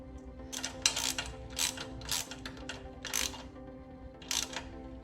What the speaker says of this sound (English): Now I can just bolt that chain tensioner right there.